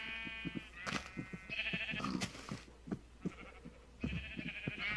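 Sheep in the Minecraft video game bleat several times in short, wavering cries, close and clear over a soft background with scattered footstep-like taps.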